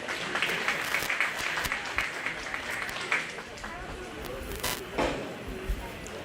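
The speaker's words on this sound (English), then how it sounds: "Let's give them a nice round of applause." A round of applause from spectators at a 4-H/FFA goat and goat kid show at a county fair, moderately distant and patchy, with a few sharper claps and a voice talking over it.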